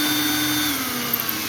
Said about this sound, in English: I'm drilling a 1/8 hole through the metal and the wood